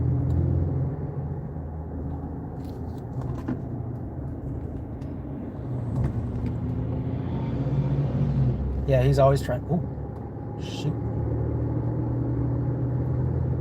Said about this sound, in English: Got some wild traffic here.